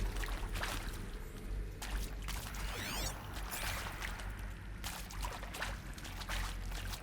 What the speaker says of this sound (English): And they totally hear me splashing around.